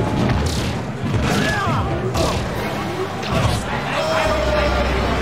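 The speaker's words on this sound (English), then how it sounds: "He hit him with that Brock Lesnar suplex" A suplex slam in a fighting video game, heard as heavy booming impacts and crashes. Excited commentators talk over it, and a crowd murmurs in the background.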